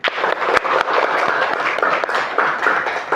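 Classroom audience applauding at the close of an elementary school Islamic religious education lesson, a steady patter of clapping hands filling the space for a few seconds.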